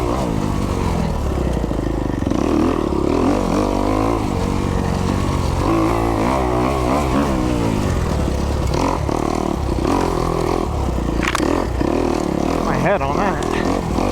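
A 2021 Kawasaki KX250X dirt bike engine runs continuously while riding, revving and rising in pitch with steady loud mechanical clatter and some wind noise throughout.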